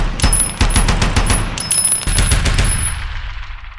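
A rapid burst of automatic gunfire as a full magazine is emptied, dense overlapping loud shots with metallic ringing, cutting off and fading into a brief tail.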